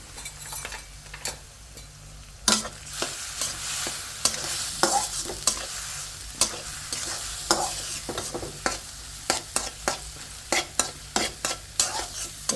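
Fish sizzles and fries with ginger, cumin and garlic paste while a utensil stirs and scrapes the pan in frequent sharp clinks over a steady close hiss, with no talking.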